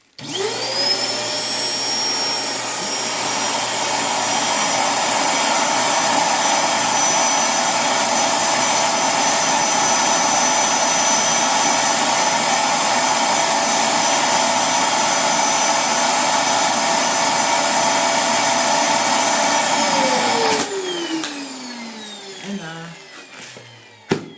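A vacuum cleaner roars steadily at close range, sucking the air out of a pillow, its pitch dropping as air is drawn out, then it winds down and stops.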